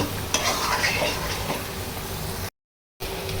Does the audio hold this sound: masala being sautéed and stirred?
yes